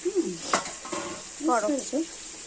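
Leg-cut mutton sizzles in a pan while being stirred for a home-style curry, a steady hiss with occasional utensil scrapes, as a voice talks over the cooking.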